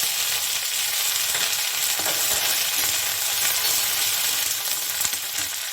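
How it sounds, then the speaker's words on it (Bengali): Black cumin and grated ginger fry in hot oil, giving a steady, dense sizzle that runs close and unbroken, with a few faint clicks and stirring sounds through it. Nobody speaks. "কালো জিরা ফোড়ন দিয়ে দিলাম, তার মধ্যে দিলাম কি রেড করা আদা"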